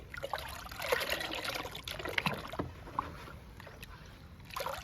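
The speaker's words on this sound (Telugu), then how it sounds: "బాగా కలవాలి పేడను వాటరు" Cow dung being stirred into water to make liquid plant fertilizer in a garden, close sloshing and trickling of thick liquid with irregular splashes.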